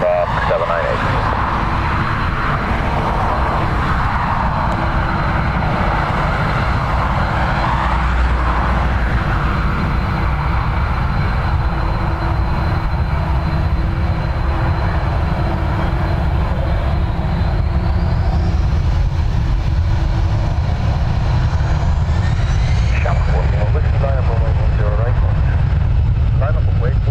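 Airliner Shark 798 taking off from runway 10 right at Dublin Airport: a loud, sustained jet engine roar throughout, with a brief tonal whine rising late, heard from fairly close.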